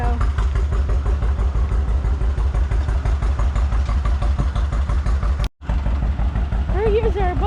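John Deere AR tractor engine idling at a Rough and Tumble John Deere days show, a steady, close, thumping putter with even rhythm, briefly cut off near the end, a voice talking faintly over it.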